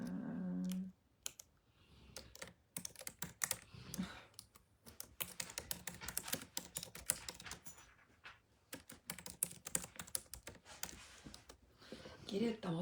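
Fingers type quickly on a computer keyboard in uneven bursts of close, crisp key clicks, and a voice speaks briefly at the start and near the end.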